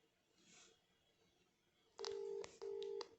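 Two short, steady electronic ring tones from a Motorola Moto G24 call, one after another, following a quiet stretch of faint background.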